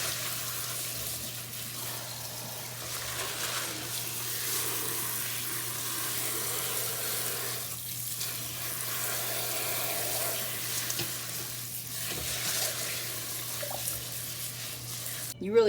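Running tap water splashes steadily over dried, hardy leaves being washed, a continuous close hiss and patter with a faint low hum underneath and no speech.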